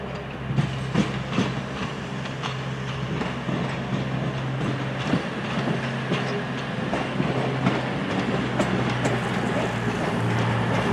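A Virgin train service from London Euston pulls into Cardiff station, a steady rumbling roll with rhythmic wheel clatter and a low engine drone holding throughout, fairly close and with no talking over it.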